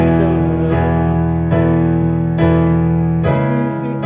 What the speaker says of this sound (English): if you only play all the notes at the same time for these chords